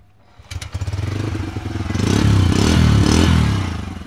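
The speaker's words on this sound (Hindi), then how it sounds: "इसके अलावा 125 सीसी की इस बाइक में साइलेंट स्टार्ट मिलता है किक स्टार्ट मिलता है और इंजन एकदम साइलेंट है" A Bajaj Freedom 125 CNG motorcycle's 125 cc engine starts with a short clatter, then settles into a steady, close idle that swells slightly in the middle before easing off, with no talking.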